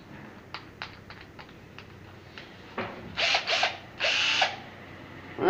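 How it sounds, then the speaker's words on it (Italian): An electric drill bores into wood, starting with a series of short clicking taps and then building into a few louder bursts of whirring as the bit cuts, heard close up with no talking. "che poi andrò a forare con il trapano"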